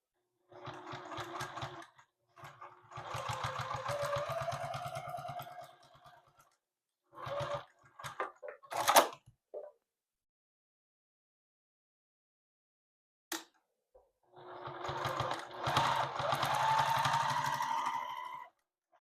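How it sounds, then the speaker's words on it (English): A sewing machine stitches across a fabric bowl cozy in several bursts of rapid, steady running, stopping and starting with short pauses and a few handling clicks between runs, fairly quiet and close. "Now we're going to take this to our sewing machine and sew across this line and across this line"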